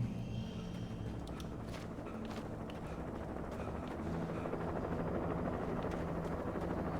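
A helicopter in the video game Alan Wake gives off a continuous low rumbling drone with steady rotor-like throb, loud and close, with a few faint clicks over it and no speech.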